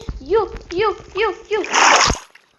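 A voice chatters in several short bursts, then a burst of splashing water in Minecraft ends abruptly.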